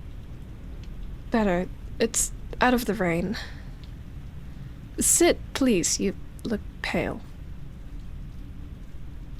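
Steady rain falls in the background with a low rumble of thunder, while someone speaks quietly in the foreground over the downpour.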